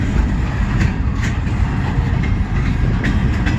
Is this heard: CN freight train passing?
yes